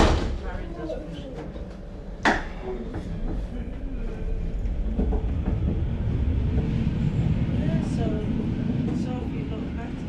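A packed tram in Manchester rolling along with steady rumbling and rail clatter, a sharp clank partway through, and murmuring passengers' voices in the carriage.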